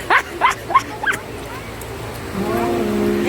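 A dog gives four quick barks close by, followed by quieter background noise and a low tonal sound near the end.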